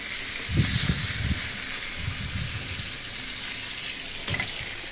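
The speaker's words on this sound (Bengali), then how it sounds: "মাছটা দিয়ে দিচ্ছি ভাজি, মাছ ভাজি করতে" Fish sizzles steadily in hot oil in a pan, a continuous close frying hiss with a few soft bumps and scrapes of a utensil, no talking.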